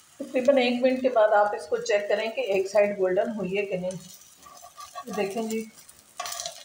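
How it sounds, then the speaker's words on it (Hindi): Eggplant slices frying in a pan, soft sizzling beneath someone speaking in Hindi-Urdu, with a brief clink of utensils near the end. "बैंगन हमारे फ्राई हो रहे हैं।"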